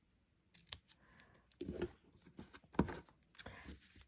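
Scissors snipping the tail of a crafting ribbon, a few quiet close crisp cuts and clicks with gaps between.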